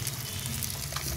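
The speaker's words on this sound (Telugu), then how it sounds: "ఇప్పుడు మనం ఎండుమిరపకాయలు వేసుకుందాము." Dried red chillies sizzling in a pan for moringa podi, a steady close crackle of dry frying over the short stretch with no voices.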